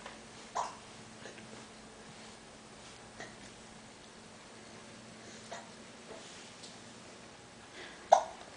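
A small child hiccups several times at irregular intervals in a quiet room, each hiccup a short, sharp, close catch of breath, with the last one the loudest.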